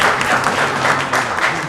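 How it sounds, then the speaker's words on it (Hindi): Office staff clapping for themselves, a dense burst of applause from a small group at close range, brisk and continuous for a couple of seconds. "सबसे पहले खुद के लिए तालियां मार लो"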